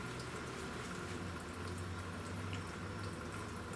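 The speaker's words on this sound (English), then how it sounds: "Here, coolant is draining." Coolant draining from a 2006-2011 Honda Civic into a pan, a steady soft trickle and splatter of liquid, faint and continuous with no voices.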